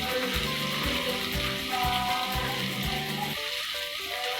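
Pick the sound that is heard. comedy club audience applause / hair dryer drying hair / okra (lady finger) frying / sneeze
okra (lady finger) frying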